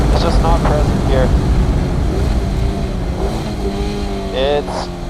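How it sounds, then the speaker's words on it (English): A 2016 Mazda MX-5 Miata engine revs on a race track, a loud nearby rising and falling engine note with gear changes, heard under someone talking. "The engine just revs so freely."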